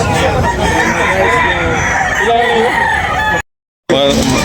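A rooster crows loudly at a gamefowl sale in Tabunok, Talisay, Cebu, with other fowl clucking and crowing in a dense, noisy crowd where people talk throughout, broken by a brief dropout near the end.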